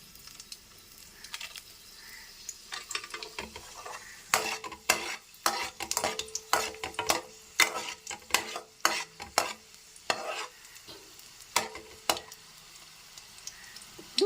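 Sharp metallic scrapes and clinks of a spatula stirring in a pan, with a faint sizzle of dried red chilies frying underneath, repeated irregularly.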